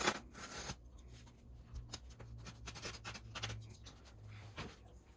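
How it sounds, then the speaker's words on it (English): A utility knife cuts Schluter Kerdi-Board band square, giving close, scratchy scraping and rustling strokes in irregular bursts over a low background hum. "we'll take our utility knife. We'll cut this off square."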